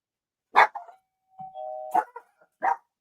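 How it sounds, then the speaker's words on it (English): A doorbell chimes with a short sustained ding, set between several sharp barking bursts from a dog nearby. "Someone is ringing the doorbell."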